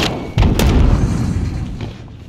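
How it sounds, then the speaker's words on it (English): Grenade explosion in a Call of Duty match: a sudden low boom hits about a third of the way in, then rumbles and decays over roughly two seconds, with faint game sounds around it. "Throwing grenade!"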